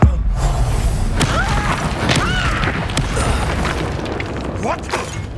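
A Bombarda explosion spell in Hogwarts Legacy goes off amid a heated magical duel, a loud booming blast followed by crashing, shattering debris and mechanical clatter, with strained voices briefly audible.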